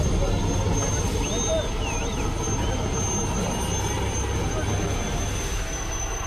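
An army helicopter's engine drones steadily during a river rescue, a continuous loud whine and rumble that persists throughout while voices talk over it.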